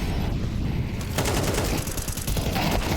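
Rapid automatic gunfire bursts from the game Counter-Strike, a dense crackling fusillade of shots with fast repeated reports throughout.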